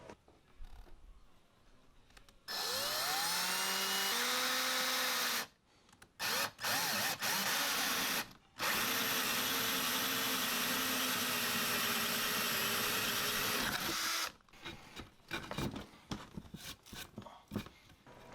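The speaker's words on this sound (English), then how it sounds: "at the intersection of these two lines is where I'm going to drill the center of my hole." A power drill bores a hole through a 2x4 board, whining up to speed and grinding steadily in long near bursts, with short pauses and a few brief restarts before trailing off into scattered handling noises.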